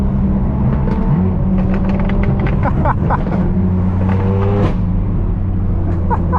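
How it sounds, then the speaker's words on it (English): Lamborghini supercars rev their exhausts nearby, with rising and falling engine howls and sharp throttle blips layered over a steady idle rumble. "Listen to these Lambos."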